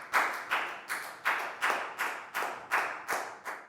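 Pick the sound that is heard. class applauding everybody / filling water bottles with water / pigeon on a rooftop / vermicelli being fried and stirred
class applauding everybody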